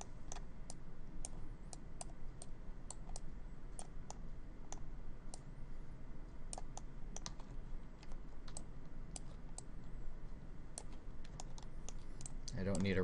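Mouse or stylus clicks from digital painting of a self-portrait, adding skin pores: sharp, scattered clicks and taps at an uneven rhythm, close and fairly quiet over a steady low background hum.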